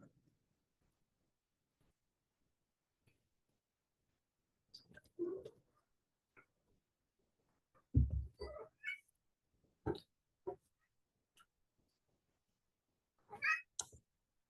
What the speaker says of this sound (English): Nino, the temple cat, has come to say hello.